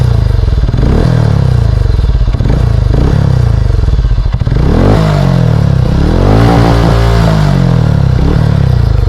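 A motorcycle fitted with an aftermarket Global exhaust revs hard up close, with loud repeated throttle blips rising and falling over a steady idle, and no talking.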